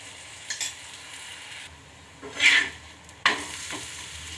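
Bottle gourd roti cooking on a hot pan with oil added to both sides, a steady low sizzle punctuated by a few brief scraping and spatula-like clatters, close by with no talking.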